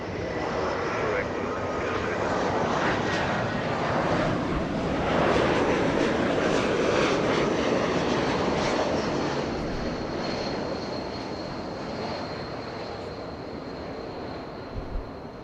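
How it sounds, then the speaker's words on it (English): Delta Airbus A220 airliner arriving at Los Angeles International Airport, a broad, steady jet roar that swells and slowly fades as it passes, with a person talking over it. "Delta 1203 flying in from San Francisco. That is an A220."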